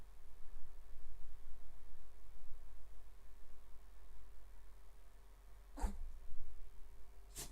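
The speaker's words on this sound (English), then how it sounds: "My dog just sneezed." A dog sneezes twice, sharp and sudden bursts about two seconds apart, close by, over a steady low hum of a quiet room.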